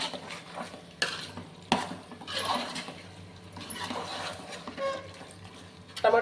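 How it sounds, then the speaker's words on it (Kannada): Masala and tomatoes being stirred in a pan for mutton biryani, a spoon scraping and clattering in uneven strokes over a soft steady sizzle, with a few sharper knocks against the pan, close and moderately loud. "ಇದನ್ನು ನೀಟಾಗಿ ಮಿಕ್ಸ್ ಮಾಡಿ ಬೇಗ ಬಿಡೋಣ."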